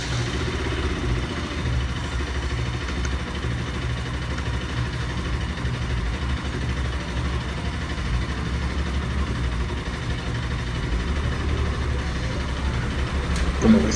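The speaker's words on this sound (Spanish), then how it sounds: "ahora sí, nuestra moto encendida." A Bajaj Pulsar RS200 motorcycle with an electrical fault idles steadily nearby, a continuous low engine rumble with a slight swell at the very end, no talk.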